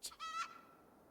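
A brief pair of fowl calls from chickens in the video game Fantasian, a short squawk and then a warbling cluck that fades out, heard alone.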